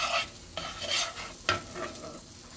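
Butter melts in a pan with a faint, soft sizzle, broken by a few quiet scraping and stirring strokes.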